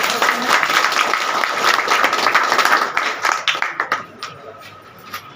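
A crowd at an outdoor campaign gathering in Sitapur bursts into loud, dense applause for MP Rajesh Verma, holding steady before thinning into scattered claps that fade out.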